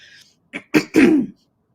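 A short burst of coughing and throat clearing, a few rough bursts close to the mic, then silence.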